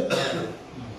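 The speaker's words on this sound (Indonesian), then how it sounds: "batuk biasanya." A single sharp, close cough bursts out near the start, then fades into a low murmur of room noise.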